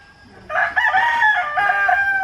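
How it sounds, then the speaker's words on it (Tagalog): Roosters crow loudly and close by, a sustained cock-a-doodle-doo with overlapping calls and a fainter crow answering near the end. "Kaingay ng mga manok na ito"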